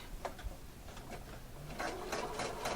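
Domestic sewing machine back stitching a straight stitch on an elastic waistband, a fast mechanical whir and tick in short bursts, close and fairly quiet.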